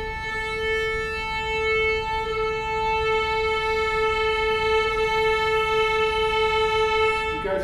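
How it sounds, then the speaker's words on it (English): Two sustained unison tones pulled slightly out of tune, producing a steady wavering beat as the pitches clash, loud and continuous with no voices. "So that's the sound of beating"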